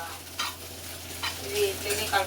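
An egg curry fries in a pan with a soft, steady sizzle while a spoon stirs it in short scraping strokes, close by and without speech.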